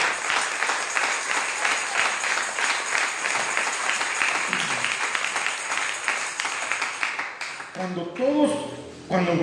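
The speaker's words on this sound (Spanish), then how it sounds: "démosle un aplauso a Dios." A congregation at a Spanish-language church service claps for God, a dense, even patter lasting several seconds before it thins out and a voice begins speaking near the end.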